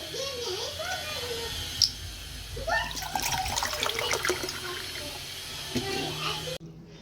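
A child splashes and plays with water in a bathroom, giving intermittent trickles, drips and splashes at a close but modest level, with a voice and some talking mixed in, ending abruptly.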